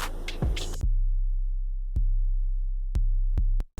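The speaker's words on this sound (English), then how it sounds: "the normal 808 is just this" A deep, plain 808 sub-bass tone sustains with low hum, cut by a few short clicks as notes restart; no voices.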